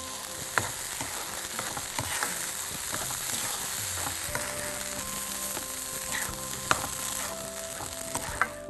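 A dal and vegetable mixture sautéing with spices in a pan for a Parsi dhansak base, a steady crackling sizzle with occasional stirring scrapes and clinks, close and continuous.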